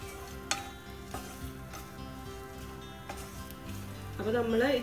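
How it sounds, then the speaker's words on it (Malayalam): Grated coconut, green chillies, ginger and shallots dry-roasting in a pan for a Kerala beef curry, with a steady close sizzle and occasional scraping stirs; a voice and some higher tonal sound come in near the end. "ഇതിനി നമുക്ക് നന്നായി വറുത്തെടുക്കണം"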